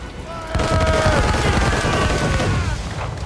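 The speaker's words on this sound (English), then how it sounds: "They're firing mortars!" Enemy mortars firing at a sailing ship in Assassin's Creed Rogue: a loud burst of heavy booming gunfire with crackling blasts, under shouted voices and game music.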